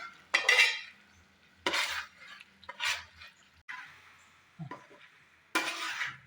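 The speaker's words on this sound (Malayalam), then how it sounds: "മല്ലിയില കുറച്ച് ചേർത്ത് കൊടുക്കുന്നുണ്ട് ഇതൊന്ന് മിക്സ് ചെയ്ത് കൊടുക്കാം" Chicken roast with coriander leaves being stirred in a pan, made without onion or coconut oil: a spoon scrapes and clinks against the metal in several separate close strokes between quiet gaps.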